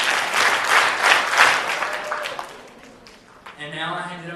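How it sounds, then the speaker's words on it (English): A junior high school audience at a student candidate speech event claps in a burst of rhythmic, fairly loud applause that fades over a few seconds, followed by a brief voice at the end. "5 big claps for all the candidates."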